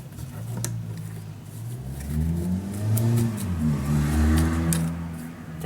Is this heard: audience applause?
no